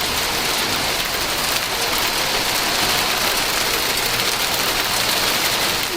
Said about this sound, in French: Oh, c'est de la grêle.